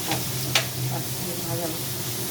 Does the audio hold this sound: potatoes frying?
yes